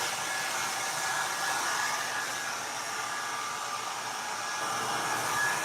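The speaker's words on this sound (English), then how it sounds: "I put it on low because this dryer gets too hot" A hair dryer on its low setting blows with a constant, even whoosh, close and steady throughout, with no talking.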